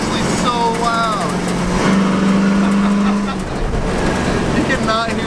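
Inside an RV, the engine roars loud and constant with a steady low drone that briefly swells, as people talk over the noise.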